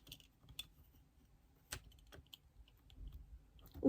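A utility knife cuts through material for a small ski Christmas tree decoration, giving sparse, quiet, close clicks and scrapes with uneven gaps between them.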